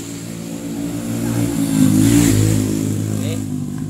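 Honda Kirana motorcycle engine running close by, with steady low harmonic drone that swells into a rev midway, then settles back down.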